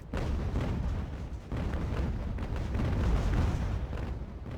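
Sailing-warship cannons fire in a naval battle game, a dense, loud, continuous barrage of overlapping booms with no break.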